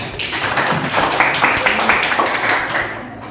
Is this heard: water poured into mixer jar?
no